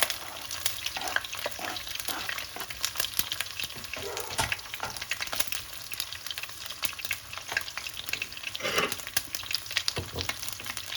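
Onions and green chillies fry in a pan with a steady, crackling sizzle, broken by frequent scraping stirs and louder bursts near the end. No one speaks.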